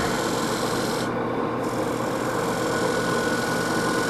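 A file or rasp drawn over a tool to sharpen it in a dusty woodworking setting, a continuous harsh scraping that stays loud and close with a steady hum underneath.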